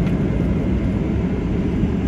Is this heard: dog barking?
no